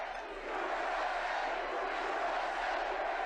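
A large crowd at a political rally in Greensboro, North Carolina roars and cheers continuously, a loud, sustained wash of voices that swells slightly after the first half second and holds steady.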